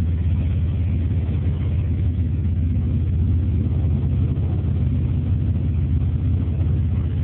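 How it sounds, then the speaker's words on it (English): A Chevrolet S10 Blazer engine with a Flowmaster 40 series exhaust and K&N intake idles in a steady, deep, throaty rumble, continuous and close, with no talk over it. "S10 blazer with a 40 series Flowmaster on it."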